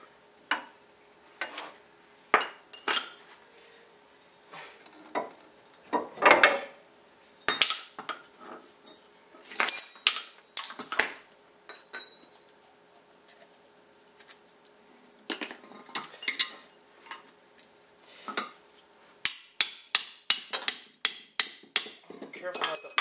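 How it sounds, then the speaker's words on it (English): Sharp metallic strikes ring out as a hammer drives a chisel wedged into a cast iron wheel knuckle on a Mazda 3 front wheel bearing job, coming in irregular clusters of close taps and heavier blows, then a quicker run of hits near the end. "you may have to wedge your chisel in there again."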